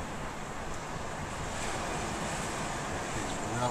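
Ocean surf washes steadily onto a beach at Parker Beach, a continuous broadband roar mixed with wind buffeting the microphone, with no distinct gull calls standing out.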